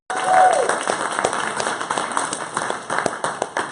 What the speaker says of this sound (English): Let me hear a round of applause for Peachtree.